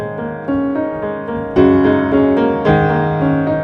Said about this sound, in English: The piano is sort of a little bit folky and pastoral